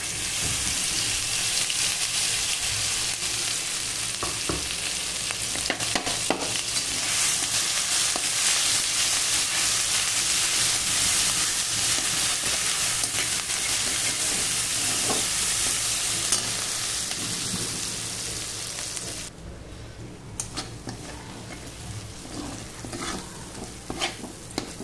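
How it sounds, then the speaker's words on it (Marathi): Restaurant-style gravy with cloves and black pepper frying hard in a pan, a loud steady sizzle with scattered stirring scrapes that grows quieter and thinner near the end, close up with no one talking. "हे ग्रेव्ही परत एकदा आपण भाजून घेऊया।"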